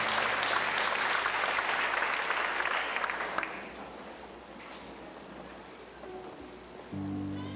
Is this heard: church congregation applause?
yes